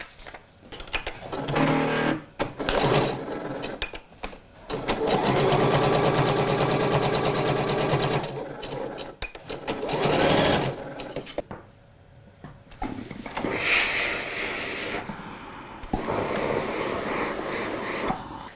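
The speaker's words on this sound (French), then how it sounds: "Et on va venir les piquer à la machine à 1 cm du bord." Sewing machine stitching the back seam of trousers 1 cm from the edge, several runs of close motor whirring separated by short pauses and handling noises, with no voice.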